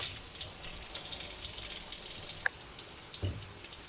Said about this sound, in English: We fry this.